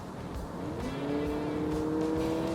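Inside a Honda Accord RS e:HEV, an artificial engine sound played through the car's speakers swells under hard acceleration, its whining tone rising steadily in pitch and loudness over a low cabin rumble.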